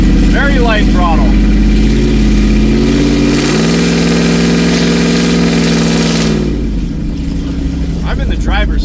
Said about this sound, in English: So we're accelerating away from the stoplight.